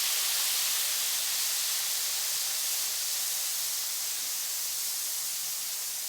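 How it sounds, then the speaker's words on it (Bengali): Potato and cauliflower fry together with half a spoon of salt in mustard oil in a kadai, giving a steady, loud, unbroken sizzling hiss with no voices. "কড়াইতে কিছুটা সর্ষের তেল দিয়ে দিলাম। হাফ চামচ লবণ দিয়ে আলু ফুলকপি একসঙ্গে দিয়ে ভেজে নেব।"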